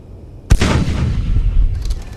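Artillery fires in the video game Space Engineers, one sharp loud boom followed by a long rumbling tail that slowly decays and fades.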